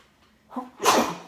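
A single close sneeze, a short inhale followed by a sharp, breathy burst.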